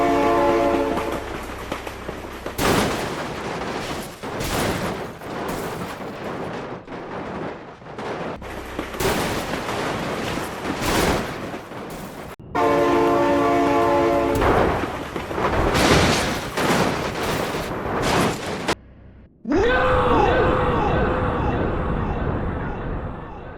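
Train horn blasts loudly several times in the BeamNG video game as a train rushes past with rumbling rail noise, broken by brief crashes and a short gap near the end.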